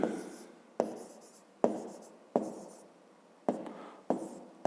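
Handwriting numbers for a fifth-grade math exercise, with six distinct pen-on-paper strokes, each a sharp start fading into a scratchy tail, close and quiet with no talk.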